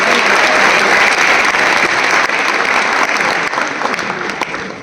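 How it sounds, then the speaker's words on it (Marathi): Sustained, dense audience applause at a lavani performance event, loud and steady throughout before slowly tapering off near the end. "त्या आवाजासाठी आपण सर्वांनी टाळ्या वाजवा."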